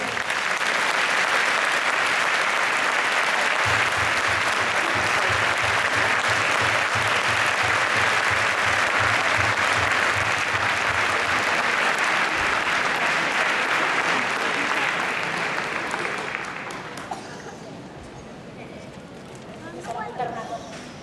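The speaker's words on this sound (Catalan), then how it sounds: "Moltíssimes gràcies, un fort aplaudiment" Loud, sustained applause from an audience at a charity concert against cancer, steady for about seventeen seconds before fading, with some voices and rhythmic clapping mixed in.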